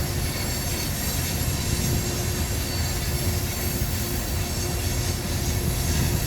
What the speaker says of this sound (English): those are the engines running